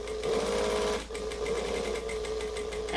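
A sewing machine stitches a bag in a rapid, steady whir, briefly stopping about a second in before running on, loud and close with no voices.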